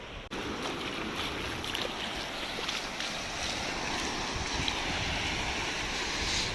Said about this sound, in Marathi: मित्रांनो खूप भारी वाटतं इथे, पाण्याचा आवाज